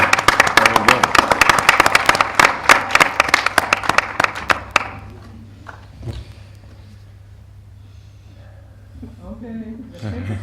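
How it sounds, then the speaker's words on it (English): Conference audience applauding in a dense burst of clapping for several seconds that then fades away, followed by scattered murmuring and talk in the room. "one more big round of applause for Emmanuel."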